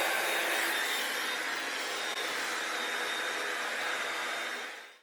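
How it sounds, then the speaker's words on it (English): A Dyson hair dryer blows steadily over still-damp hair, a loud, close, continuous airy whine that runs unbroken and then quickly fades as it is switched off. "I'm just gonna go through it with my Dyson"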